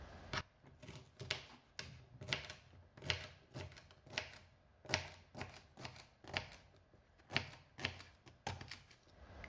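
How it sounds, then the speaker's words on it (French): Knife chopping a celery stalk into small pieces on a board: a quiet, close series of crisp, evenly spaced cuts, roughly two per second, with no talking. "On commence avec le céleri branche. Je vais le couper en petits morceaux."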